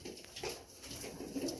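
Pigeons gathered at a drinker coo softly in low, rounded calls against a quiet background.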